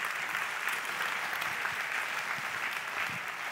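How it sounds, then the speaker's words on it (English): A church congregation applauds a children's choir during a modern worship service, a full, even roar of clapping from many people that holds steady for several seconds, fairly close and lively, with no talking over it. "I think we definitely have to clap for them"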